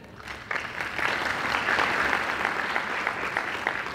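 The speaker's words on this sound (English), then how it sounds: "Thank you for that applause to our officials." A crowd at a pastor's anniversary celebration applauds state and local officials; after a brief quiet start, thick, even clapping builds and carries on steadily to the end.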